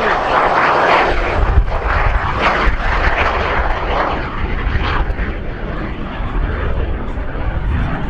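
Greg Collier's T-33 jet flies past at an air show, its engine roar loud and steady throughout with broadband rumble that rises and falls slightly.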